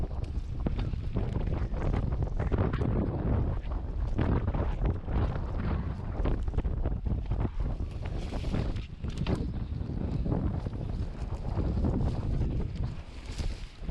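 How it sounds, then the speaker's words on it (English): Strong gusts of wind buffet the microphone on a mountain bike trail, a continuous loud roaring rumble that swells and eases throughout, with no talking. "Yeah, still super windy."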